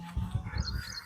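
A house sparrow at its nest with three grown chicks gives a quick run of short, close chirps, about five soft pulses in about a second, over a faint steady background tone.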